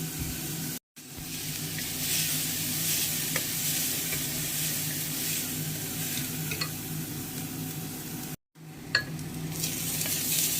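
Onions sautéing in a pan for a pori kadalai curry, a constant close sizzle with repeated stirring scrapes and two brief drops to silence, no one speaking.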